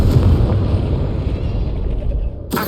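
The Confringo fire spell in Hogwarts Legacy lands as a loud, rumbling blast that decays over a couple of seconds, followed by a sharp new burst at the very end.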